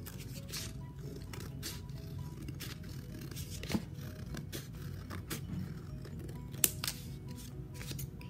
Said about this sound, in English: So now I'm going to cut this out.